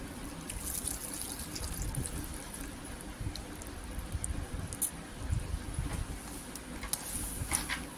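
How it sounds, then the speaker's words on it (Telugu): Soaked rice tipped into boiling water in a pot, a soft rushing, bubbling patter with scattered small splashes, steady and close. "మనం నానబెట్టుకున్న రైస్ కూడా ఇప్పుడు వేసుకుందాం. ఈ ఎసట్లో వేసుకుంటే ఇంకా అన్ని బాగా ఉడుకుతాయి అన్నమాట."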